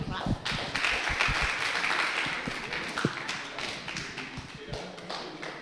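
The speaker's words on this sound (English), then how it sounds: "Let's give them a big clap" Applause from a congregation at a Sabbath service, a broad wash of clapping with some louder nearby claps, steady and sustained, with a voice talking over it.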